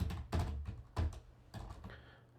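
Keys tapped on a computer keyboard in four separate dull, thudding clusters, close and moderately loud, with brief gaps between bursts.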